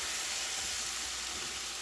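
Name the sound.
vegetable broth added to mushroom risotto in pan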